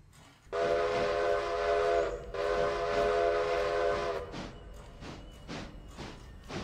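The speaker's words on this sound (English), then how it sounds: "The chuffing is supposed to be better." A steam locomotive in the Railroader video game gives two long, loud whistle blasts, then settles into a series of soft, evenly spaced chuffs as it works along.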